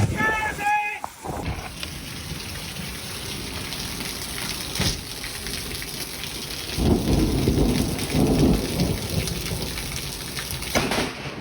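Heavy rain pours down in a fierce, windy storm, a steady broadband roar that surges in loudness around the middle and near the end, with rumbling thunder swells underneath and a brief sharp sound at the very start.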